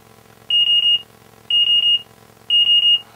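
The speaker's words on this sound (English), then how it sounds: "a warning sound when that happens." An OpenTX radio transmitter plays a warning sound: a loud, high electronic beep pattern of three rapid chirps, repeating once every second, three times in a row with no talking.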